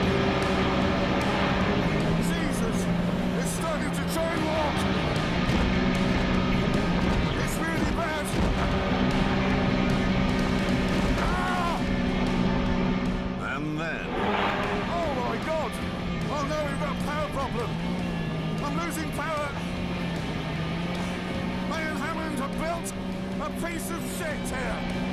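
A car converted into a jet boat roars at full throttle, a steady, loud drone that wavers slightly in pitch as the throttle is eased and pressed, while people talk over it.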